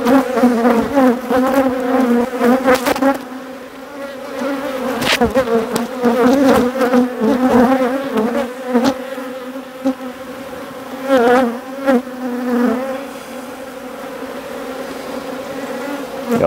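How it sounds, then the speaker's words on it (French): A honeybee colony, an overwintered swarm being transferred to a new hive, hums in a loud, close buzz with pulsing swells and brief sharp peaks as bees fly near. "transvasement d'essaim hiverné"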